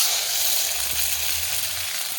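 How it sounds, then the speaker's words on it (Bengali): Tomatoes frying in hot oil in a kadai after a cumin tempering, giving a steady, loud, close sizzle with no pauses and no voices over it. "টমেটোটা ভাজা হয়ে গেছে"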